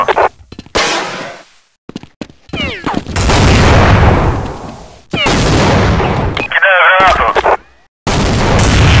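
A grenade thrown and exploding in Counter-Strike 1.6, a loud blast with rushing debris amid bursts of gunfire and choppy sound, alongside a voice speaking.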